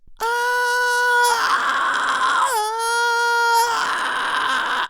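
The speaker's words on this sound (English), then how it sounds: "this is essentially just producing the fry screaming distortion with no power behind it" A voice alternates between a steady sung tone and a raspy, distorted vocal-fry scream, two of each, loud and close.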